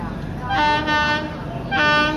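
The Kerala Trivandrum Superfast Express approaches on the railway, sounding two horn blasts over a low rumble of rolling carriages.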